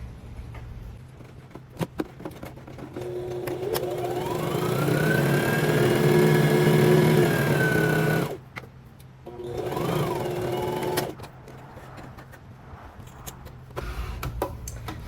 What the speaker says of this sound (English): I already have one ready here on the sewing machine. I'm just going to sew around the edge here